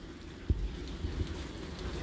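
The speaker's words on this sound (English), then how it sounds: "It's raining like you can't believe." Heavy rain falls across Gauteng province, a steady hiss of drops with a few louder thumps and spatters standing out near the start and middle.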